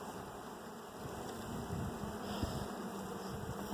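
Agitated honeybees buzz steadily at a recently split hive, a dense close swarm hum that holds at the same level throughout with no voices.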